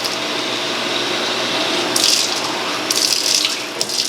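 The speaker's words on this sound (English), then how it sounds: "I just use tap water." Tap water runs steadily into a container of alcohol, a continuous close hiss with a few brighter splashy bursts.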